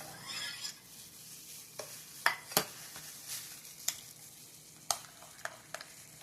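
Homemade garden salsa of tomatoes, jalapenos, onions and garlic stirred in a bowl, soft wet squelching with a handful of sharp spoon clinks against the bowl, quiet and close, no voices.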